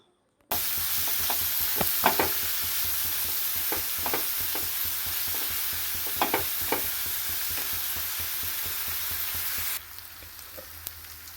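Sliced onions sizzle steadily in a hot pan for a home-style chicken curry, a continuous close frying hiss with occasional crackles and stirring scrapes, cutting to quieter sizzling near the end.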